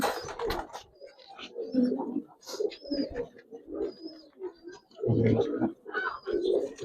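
Pigeons coo repeatedly at close range at a pigeon seller's place in Narayanganj, soft throaty calls rising and falling in irregular bursts, with faint human voices mixed among them.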